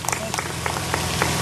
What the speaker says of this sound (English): Let's give Leslie a round of applause for coming up and sharing his poem for us